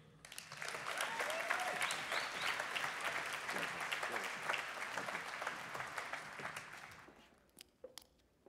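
A conference audience applauds to welcome a community leader to the stage, a dense, sustained wash of clapping that fades out near the end, leaving a few scattered claps.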